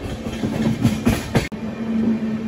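A Bengaluru to Tirupati intercity train rolls into Krishnarajapuram station with steady rumble and rhythmic wheel clatter, a sharp click near the middle, and no voices.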